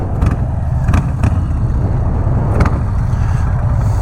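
A Harley-Davidson Street Bob 107 motorcycle engine braking on the road: a loud, steady low rumble of the big V-twin with a few brief higher bursts, heard up close without any voices.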